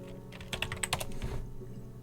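Quick bursts of keyboard typing in the video game Her Story, a short run of close, crisp keystrokes with no talk over them.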